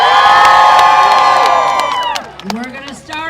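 Crowd in bleachers at a lumberjack show at the Alaska State Fair, cheering and whooping loudly under an amplified announcer's voice, with shouts trailing off near the end.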